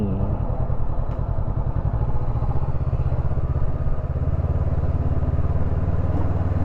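A Honda CB500X motorcycle rides along a road near a market, its engine giving a steady, close, continuous rumble with wind noise and no speech.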